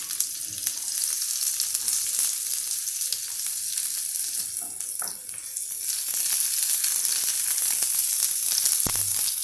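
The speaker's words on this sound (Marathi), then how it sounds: "आता मला वाटतं की तेल गरम झालेलं आहे आपण आता हा तेलामध्ये कांदा टाकून घेऊया" Onion frying in hot oil with curry leaves, sizzling steadily and loudly throughout, close by, with a faint tap or clink near the start and another near the end.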